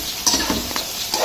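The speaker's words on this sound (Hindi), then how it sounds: "अब इनको फ्राई करके" Onions frying in a pan for a bitter gourd and meat curry, with a steady close sizzle and a few soft scrapes as they are stirred, and no voices.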